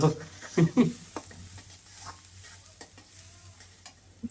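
Onion and green chilli fry in hot oil with a low, steady sizzle, while a utensil stirs and scrapes around the pan, loudest at the start and then quieter.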